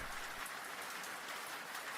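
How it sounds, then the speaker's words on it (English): Soft rain falls steadily against library windows, a faint, even hiss of drops with no voices. "the rain settles softly against the library windows"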